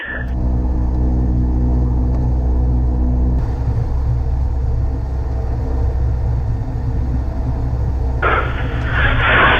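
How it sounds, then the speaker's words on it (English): An Air Tractor 402 agricultural plane's engine rumbles steadily on the runway as it lines up for departure, a loud, close, continuous drone with a harsher, brighter roar building near the end. "air tractor 352 Bravo Alpha is taking runway 31 for a northbound departure"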